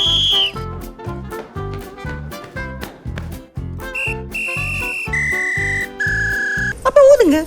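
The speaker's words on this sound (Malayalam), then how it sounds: "That PP is Titanic edition ACME whistle made in England." A Titanic edition ACME whistle made in England, heard as a rapid run of short, sharp pipped blasts followed by several longer sustained shrill tones at shifting pitches, loud and close, alone without talk.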